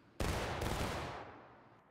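A musket volley fired by a company in the War of Rights video game at a Saunders Field reenactment: one loud, massed blast that erupts suddenly and rolls into a long, decaying echo.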